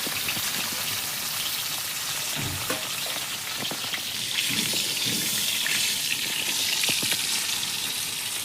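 Fish frying in a pan at home gives a steady, close sizzle and crackle with occasional louder pops, no talking.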